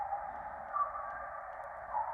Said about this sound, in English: a bat call that we have recorded